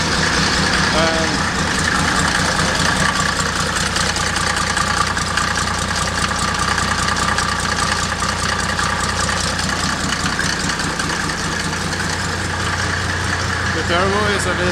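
Volcedes car idling with a newly fitted turbo, a loud, steady low rumble with a faint whine on top, running continuously near the listener with a voice talking over it.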